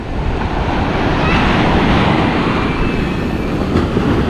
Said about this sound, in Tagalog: Biglang may malakas na alon